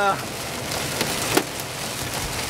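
Hailstones strike a car windshield during a storm, a steady patter of impacts with a couple of sharper, harder hits standing out above the drumming.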